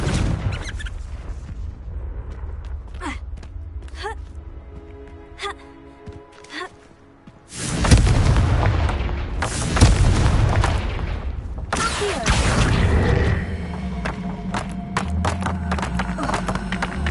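A Confringo blasting spell explodes in Hogwarts Legacy: a loud booming burst erupts midway and rumbles on for several seconds after quieter combat clatter.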